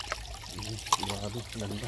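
Cold, clear stream water runs and trickles steadily outdoors, a soft continuous burble close by while someone speaks briefly over it.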